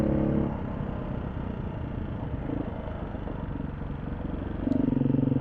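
A dual-sport motorcycle rides over sandy gravel in Colorado, its engine a steady, close, continuous rumble with the crunch of loose gravel beneath, rising slightly louder near the end.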